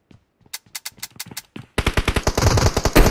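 Machine gun fire in an online shooter video game, first a few spaced single shots, then a rapid sustained burst of loud, close automatic fire.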